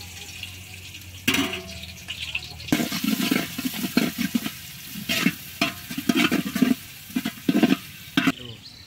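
Onion drops into hot oil with a sudden burst of sizzling that carries on loud and crackly, broken by stirring clatter, after a quieter stretch at the start.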